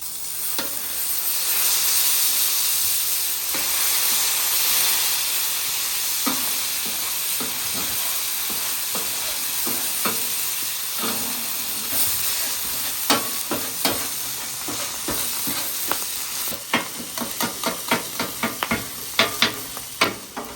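Sausage sizzles loudly on a hot griddle, a dense continuous hiss that settles slightly, later broken by a run of sharp spatula taps and scrapes on the metal surface toward the end, close up with no voices.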